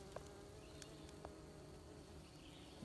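Bees at a large wild hive about seven feet tall, set near ground level, make a steady, faint outdoor hum with a few brief insect buzzes passing close by.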